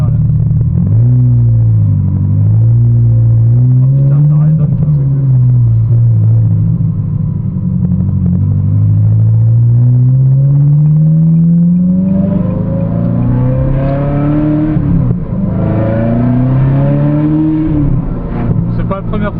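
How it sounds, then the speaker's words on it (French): A Ferrari V8 with a stainless steel exhaust rumbles close and loud, rising and falling through several throttle swells before a sharper, brighter acceleration surges twice toward the end. "On va profiter un peu du son du V8 là parce que il est terrible cet échappement inox."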